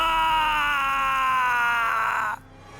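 Story sound effect of a man screaming after being stabbed in the stomach: one loud, sustained, strained cry that holds steady for over two seconds, then cuts off abruptly into near silence.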